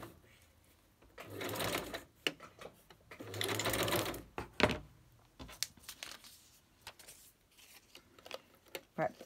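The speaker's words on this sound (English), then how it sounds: "you couldn't see what I was doing on the sewing machine" A sewing machine stitches a ruffle trim from fabric scraps in short whirring runs, with clicks and fabric rustling between bursts, close and fairly quiet.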